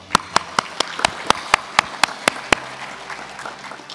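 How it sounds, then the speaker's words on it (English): Claps ring out at an NHS induction ceremony, about eleven sharp, evenly spaced beats over roughly two and a half seconds, crisp and fairly close, then fading to a quiet room. "let's have a round of applause for all of us"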